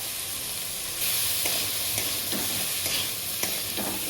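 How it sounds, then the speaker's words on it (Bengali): Vegetables with chopped tomato, salt, chili, cumin and coriander powder being stirred in a hot pan, a soft continuous sizzle broken by several scraping strokes of the spoon, close and fairly quiet. "দিয়ে আবার ভালো করে মিশিয়ে নিচ্ছি দিয়ে দিচ্ছি লবণ লঙ্কার গুঁড়ো জিরের গুঁড়ো ধনের গুঁড়ো"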